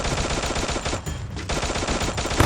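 Rapid automatic gunfire rattles in a video game, with dense bursts of shots from assault rifles, loud and close, briefly pausing before resuming.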